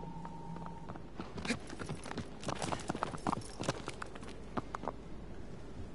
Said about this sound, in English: Argo's a smart horse.